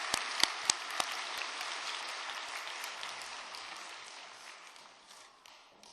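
A church congregation at a Sunday afternoon worship service applauds in a soft, steady wash of clapping heard from a distance, with a few sharper claps early on, fading slowly toward the end.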